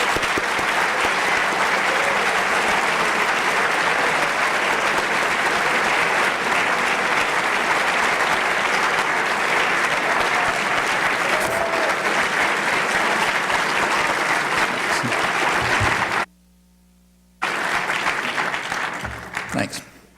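Sustained applause from a lecture audience greeting Noam Chomsky as he takes the stage, steady and full for about sixteen seconds, then a short break before the clapping resumes briefly and tails off.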